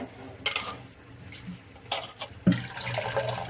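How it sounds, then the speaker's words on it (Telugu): Water poured from a glass into a cooking pot in a kitchen, short splashy bursts and clinks between quieter pauses, ending in a longer trickling pour. "ఫస్ట్ గిన్నె తీసుకుని దాంట్లో గ్లాస్ నీళ్లు పోసుకున్నాను"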